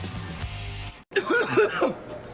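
A harsh throat-clearing cough breaks through after a brief pause, following a stretch of muffled background sound.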